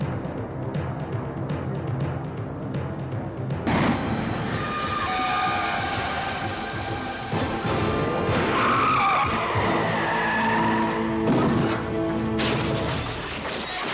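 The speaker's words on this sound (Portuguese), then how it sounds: "o Alexandre começa a influenciar negativamente um motorista de caminhão para poder causar um acidente de carro" Car skidding in a road accident scene with a truck, long shrill tyre screeches over loud rumbling engine noise and a blaring horn, with several squeals overlapping near the middle.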